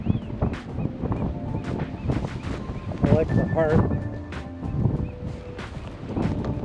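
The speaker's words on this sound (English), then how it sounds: "It is windy out here today." Wind gusting outdoors at Albany Bulb, buffeting the microphone in a steady rumble beneath someone talking throughout.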